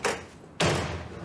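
A car door in a family sitcom scene slams shut twice in quick succession, each a close, loud thud with a short rumbling decay, no talking over it.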